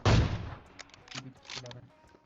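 PUBG Mobile gunfire: a loud, close burst of shots opens the moment, then scattered fainter shots and clatter follow, with some voice-like sound mixed in.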